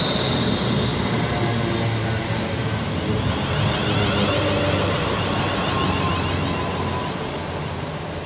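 A Class 351 passenger train passes through Lichfield Trent Valley station on the West Coast Main Line, a loud steady rumble of wheels on rails that fills the whole clip and eases slightly toward the end.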